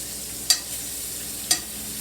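Steaks fry in a pan with a constant close sizzling hiss and two brief crackling pops about a second apart.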